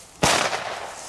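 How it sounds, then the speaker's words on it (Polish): A "Piraci z Karaibów" firecracker, set off about five metres away, goes off in a single loud, sharp bang that rolls away into a short echoing tail. "Tak, to jest największa petarda wizualnie."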